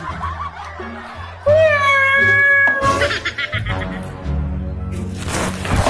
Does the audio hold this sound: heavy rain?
no